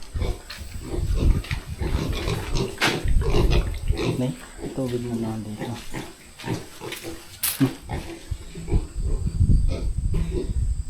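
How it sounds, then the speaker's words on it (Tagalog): Pet pigs grunting and snorting at close range, with a person talking in Filipino over them throughout. "mga alaga nating baboy"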